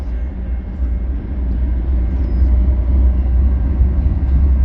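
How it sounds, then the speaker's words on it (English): A CN freight train heading west approaches with a steady low rumble that builds gradually, loud and close, without voices. "Looks like a freight train coming."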